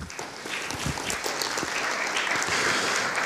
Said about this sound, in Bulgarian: вашите аплодисменти за Сале